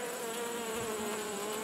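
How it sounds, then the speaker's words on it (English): Agitated honey bees swarm around a queen cage as they try to bite through its screen, giving a steady, close, dense buzzing drone with no talking throughout. "this is how they behave when they do not accept the new queen bee and they are ready to attack and kill her."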